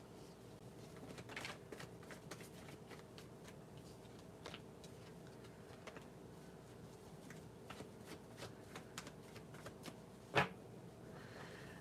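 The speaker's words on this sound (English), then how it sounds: "let me just shuffle a little bit" A deck of tarot cards is shuffled by hand during a reading, giving faint, scattered riffles and soft taps with one sharper snap near the end in a quiet room.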